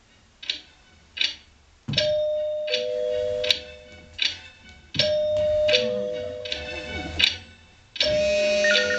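Doorbell chimes ringing repeatedly, a series of bright ding-dong tones with sharp knocking ticks between them, fairly close and loud with no voices.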